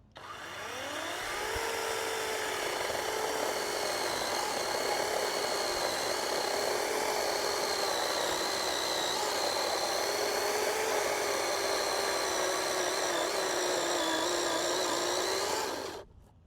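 A SEESII 16-inch chainsaw on its first use spins up sharply, then holds a loud, steady high-pitched motor whine with small dips in pitch for about fourteen seconds before cutting off abruptly, with no voices.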